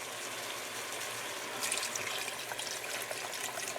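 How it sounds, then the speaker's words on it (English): Chicken stock poured into a pot of pork and Hatch chili stew, a steady gushing pour that swells partway through over the ongoing sizzle of the pot. "Then we're going to go in with some chicken stock."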